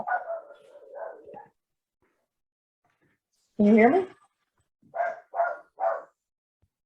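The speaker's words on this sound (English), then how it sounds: "Somebody's dog." A dog barks in the background of an online community meeting, with one sharp harmonic bark followed by three quick shorter barks, heard after a brief stretch of talk.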